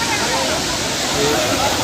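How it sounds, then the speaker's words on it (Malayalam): Aruvikuzhi waterfall in Kottayam roars as a dense, continuous rush of falling water, loud and close, filling the whole short stretch without pause. "ഇതാണ് ഞാൻ പറഞ്ഞ വെള്ളച്ചാട്ടം"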